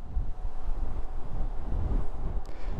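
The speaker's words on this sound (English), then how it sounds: "It is a little windy today." Steady outdoor wind buffeting the microphone, a continuous low rumble with gusty swells and no speech.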